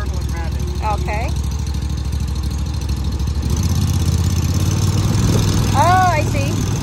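A zero-turn lawn mower engine runs steadily at half throttle with a low, constant drone, close by, while people talk over it.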